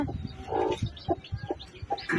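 Brooding hen sitting on a clutch of nine eggs near hatching, clucking angrily in short, close bursts with sharp pecking sounds between, several calls over about two seconds.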